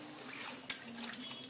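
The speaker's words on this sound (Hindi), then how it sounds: "एक कप पानी इसमें हमने डाला है" A cup of water is poured into a pan holding a spice mixture for a vegetarian fried chicken-style dish, making a faint, soft trickle and splash in a quiet kitchen.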